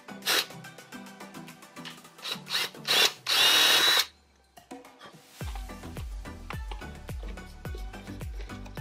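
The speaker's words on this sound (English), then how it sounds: "we're just gonna take our punch to and then drill straight through" A power drill whirs in short bursts, then a longer run of drilling with rhythmic chattering as the bit bites through the metal of a Ford car hood, close by.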